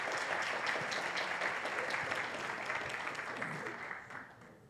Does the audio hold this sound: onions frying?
no